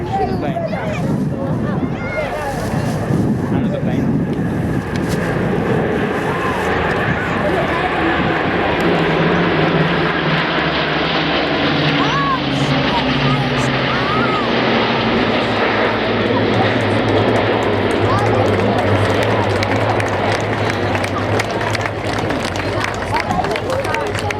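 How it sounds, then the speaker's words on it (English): Loud, sustained roar of several propeller aircraft engines passing overhead in formation at Cosford in 2015, droning steadily with shifting pitch, with crowd noise faintly in the background. "hear the fantastic sound of these engines in formation"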